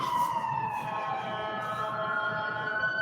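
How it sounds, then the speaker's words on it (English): Ambulance siren passing by outdoors, a loud steady wailing tone that slowly drops in pitch as it goes past, filling the whole stretch over low traffic rumble. "Daggone ambulance killing me."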